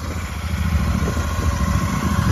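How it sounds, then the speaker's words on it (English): A brand-new 2024 Royal Enfield Super Meteor 650 motorcycle, still being broken in, runs loud and close with a steady throbbing engine note and no talk over it. "we'll give her a quick couple revs"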